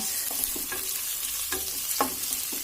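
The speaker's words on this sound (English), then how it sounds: "fry them a little bit till they are a little translucent" Chopped onions fry in a pan for soyabean curry, a steady sizzle close by with several soft scraping strokes of stirring, and nobody talking.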